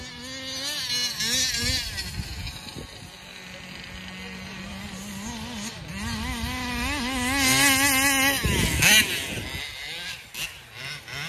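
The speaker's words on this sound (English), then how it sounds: "putting some laps in on this Taylor 35 Reed" A Taylor 35 reed engine drives an RC car through laps outdoors, its high, buzzing whine rising and falling as the throttle opens and eases. The pitch swings with each pass, and a voice comes in briefly.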